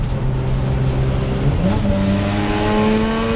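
Race cars, including a Mazda RX8 and a Ford Escort Mark 1, run in a Classic Thunder and Blue Oval circuit race, a steady loud engine drone that shifts pitch midway as cars pass.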